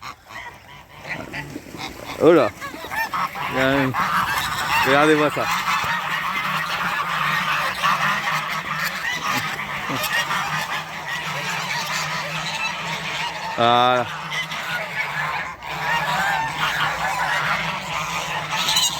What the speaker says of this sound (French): mais après tout le reste c'est que des oies.